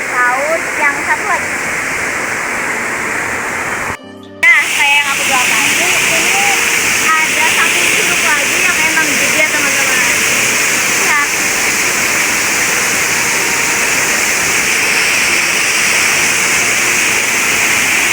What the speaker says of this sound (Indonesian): Curug Telu ini ada 2 air terjun besar, salah satunya ini